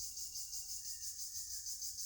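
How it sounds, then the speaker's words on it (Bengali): Crickets chirping in a deep jungle, a dense high continuous trill pulsing in steady waves, with a fainter thin tone beneath, moderately distant and unbroken. "আপনারা একটু অনুভব করেন ঝিঝি পোকার"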